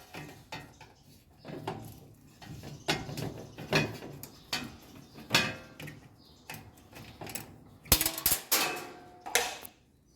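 Screws are removed from the front panel of a Whirlpool electric stove with a hand tool, irregular metallic clicks, ratcheting and clatter up close, louder rattles near the end, no speech.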